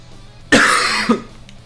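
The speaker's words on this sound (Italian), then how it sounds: "C'è una tosse assurda, raga." A single harsh cough bursts out close to the microphone, followed half a second later by a shorter second cough, both standing out against a quiet background with no talk.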